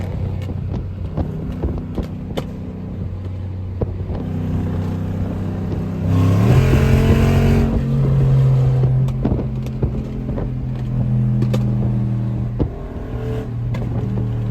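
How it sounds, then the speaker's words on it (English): A tuned Hellcat V8 engine drones steadily on a highway, then revs up loudly midway before settling back into a lower, sustained hum. "Y'all gonna hear nothing but motor."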